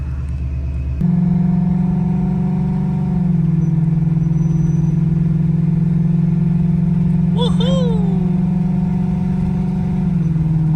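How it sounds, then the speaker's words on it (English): A 1000hp Ford Mustang engine drones steadily from inside the cabin, its pitch shifting as it accelerates to 55 mph despite fuel system issues, with a brief excited whoop partway through. "finally up to 55 miles an hour, boy. This car is hella fast."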